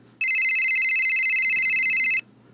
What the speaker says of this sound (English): Her cell phone rang.